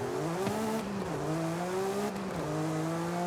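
A Mercedes-Benz 190E with a 7-speed gearbox, driven in the Forza Horizon game along a reservoir road, holds a steady engine drone that climbs in pitch, drops at two gear shifts, then rises again.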